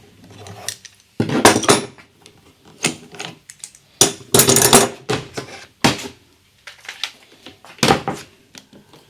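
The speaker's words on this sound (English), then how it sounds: "I think we can take the clamps off and have a look" Metal clamps are loosened and removed from the freshly glued veneer on a restored UNIC Royal radio cabinet, making irregular clanks, ratcheting clicks and knocks at close range, with quiet gaps in between.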